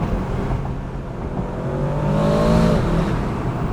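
Aston Martin DBX 707 engine building under acceleration, with a faint rising whistle of the turbos over the close, steady drone and no talking.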